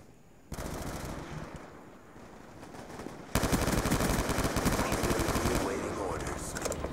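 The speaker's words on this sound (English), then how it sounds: "This gun's a beast of a range, man." Sustained automatic gunfire from a gun in the PC video game Black Ops 2, a steady loud rattle that grows heavier partway through and continues without pause, no talk over it.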